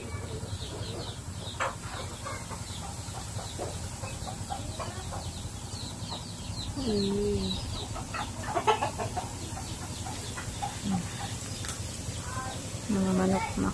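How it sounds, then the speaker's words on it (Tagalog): Free-range farmyard chickens cluck and murmur in a steady, moderately close background chatter, with a few louder calls standing out, around an outdoor cooking area on a small farm. "Mga manok, maksaya lang sa pagkain."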